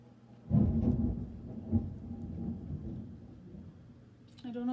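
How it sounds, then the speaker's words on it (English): Thunder during a rainstorm rolls in as a deep, heavy rumble that swells suddenly, then slowly fades away, with a voice briefly heard at the very end. "That was just a big bolt of some thunder out there."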